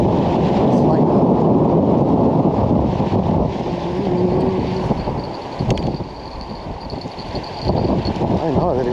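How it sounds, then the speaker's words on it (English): Strong wind buffets the microphone on Lake Grapevine, Texas, during a fishing outing, a loud, steady low roar with gusty swells and dips that runs throughout, with faint voices partly under it. "It's extremely windy"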